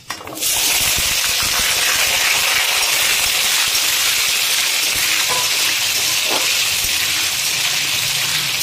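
Potatoes hit hot oil that already holds five-spice seeds, and a loud, steady sizzle starts at once and holds as a dense, even hiss, with a few faint clinks under it.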